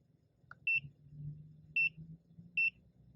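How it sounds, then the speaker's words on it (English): An AutoPhix 7360 OBD2 scanner gives three short high beeps at spaced intervals over a low hum and faint background noise. "I'm going to turn the beep off so this beep goes away"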